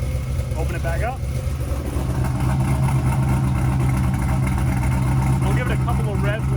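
A car engine with its exhaust cutout open rumbles loudly and steadily, swelling slightly partway through, while a voice speaks briefly over it.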